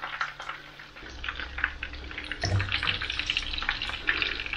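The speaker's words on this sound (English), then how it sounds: "So you get a sizzle as soon as it goes in the pan" Chips deep frying in hot oil in a pan, a bright crackling sizzle with bubbling that swells as food goes in, close and moderately loud.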